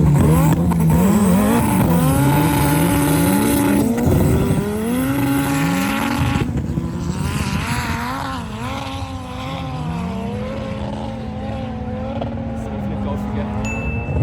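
Loud, continuous engine roar from race cars drag racing on a snowy ski slope, including an Audi, with rising and falling revs sweeping across the run; voices are heard over the engines.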